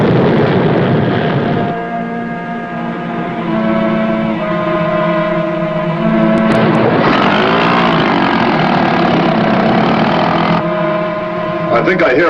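Boat engines approaching at sea, a loud, sustained droning roar with shifting tonal whine that rises and changes pitch over time, accompanied by background noise and voices.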